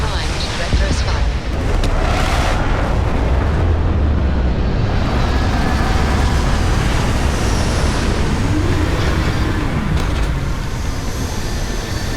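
Spaceship thrusters firing during a landing in Starfield: a loud, continuous low roar and rumble that holds steady throughout, with some faint voice underneath.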